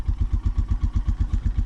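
A motorcycle engine idles and splutters in freezing winter cold, with steady rapid chugging pulses at close range. No other sound is heard.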